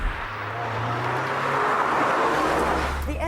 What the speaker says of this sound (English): The engine is also quieter than the Lotus's